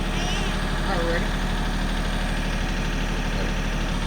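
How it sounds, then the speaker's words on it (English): A tractor engine idles and rumbles steadily at close range while backing up slowly during boat scrapping, a continuous low drone under a brief voice. "back the tractor up slowly"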